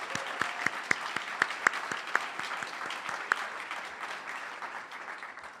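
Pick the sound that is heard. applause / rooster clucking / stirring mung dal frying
applause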